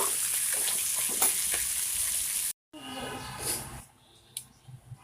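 Food frying in a pan without added water, with turmeric, salt and tomato, producing a steady close sizzle that cuts out briefly, then returns more quietly with stirring scrapes and faint clinks.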